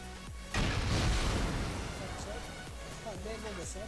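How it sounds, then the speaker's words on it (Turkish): In the video game Rust, a grenade goes off with a sudden booming blast that rumbles and fades over a few seconds, with a voice faintly audible underneath. "ben Bomba atacağım bomba"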